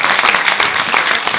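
An audience at a live Italian comedy stage show bursts into loud, dense applause, a steady wash of clapping that fills the short moment.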